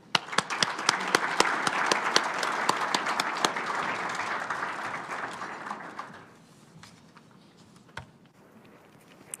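An audience at a Canadian housing panel event applauds the arriving panelists and moderator, a full burst of clapping that holds steady for about six seconds, then fades to a few scattered claps and quiet room noise.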